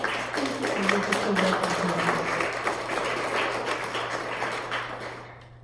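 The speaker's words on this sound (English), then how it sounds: "you guys give a round of applause for your family members" An audience at a college RN nursing pinning ceremony applauds family members, steady clapping under a low hum that fades out over several seconds.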